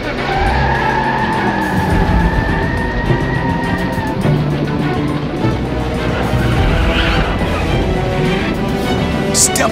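Vehicle accelerating hard with skidding tires on a dinosaur chase, a loud continuous engine roar and tire screech filling the scene alongside crashing effects and a brief voice.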